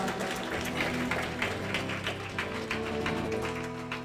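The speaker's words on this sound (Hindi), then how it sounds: "जोर से तालियां बजाओ फिर वो जिंदा खुदा के लिए" A church congregation claps loudly during a sermon, with sharp, fairly regular claps over a steady sustained tonal backing for about four seconds.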